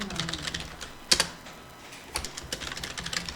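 Keys on a computer keyboard are pressed in short, close clusters with brief pauses, one sharper stroke standing out near the start, as a title is entered and a Ctrl+Enter shortcut is used in PowerPoint.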